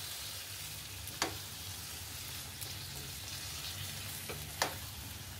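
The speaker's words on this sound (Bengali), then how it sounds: "এবার একটু ভালো করে নেড়ে চেড়ে দিব" Marinated mutton curry sizzles steadily in a pan while being stirred, the even frying hiss broken by a few sharp spoon scrapes against the pan.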